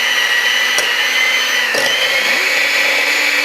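Steady, loud electric motor whir of a mixer creaming softened butter for sugar cookies, running continuously, with a brief clatter and a pitch shift partway through.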